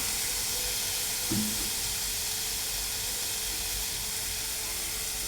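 Onion and garlic fry in a pan, giving a soft, steady sizzling hiss that stays even from start to finish, with a faint clink partway through.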